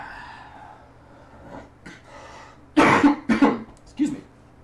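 A person breaks into a coughing fit: three or four loud, harsh coughs in quick succession, close to the microphone, after a stretch of quiet breathing and faint murmurs.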